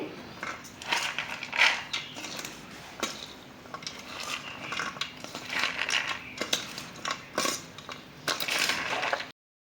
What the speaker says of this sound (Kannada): ಆನಂತರ ರುಚಿಗೆ ತಕ್ಕಷ್ಟು ಉಪ್ಪು ಎಲ್ಲ ಚೆನ್ನಾಗಿ ಕಲಿಸ್ತಾ ಇದ್ದೀನಿ.